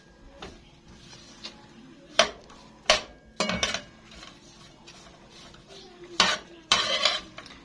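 Bread pieces being turned in a spoonful of ghee for Egyptian fatta, heard as scattered metallic clinks and scrapes of a spoon against a pan, separated by quiet pauses.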